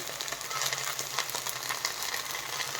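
Vegetables with salt and turmeric sizzling in a frying pan while being stirred, making a steady hiss with faint scraping and stirring clicks scattered through it.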